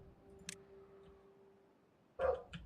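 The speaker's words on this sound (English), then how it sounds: "Oh, be quiet, dog. Pipe down, hound." A dog barking, with a faint short yap early on and then a louder sharp bark followed by a second shorter one near the end, set against a quiet steady hum and no talking.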